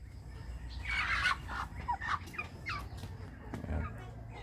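Roosters being kept as pets produce a series of short clucking and gobbling calls close by over a low background hum, with faint voices in the background.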